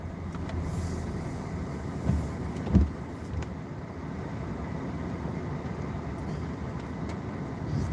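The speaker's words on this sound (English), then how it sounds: "I hear the train a rolling." A steady low rumble of a train rolling by in the distance through fog, continuous and muffled, with a couple of faint clunks early on.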